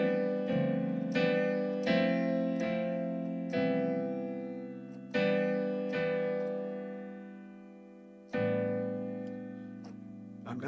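Solo piano plays a slow reharmonized melody, each note carried by a rich, complex chord struck cleanly and left to ring and decay, about a dozen attacks spaced unevenly, quiet and alone.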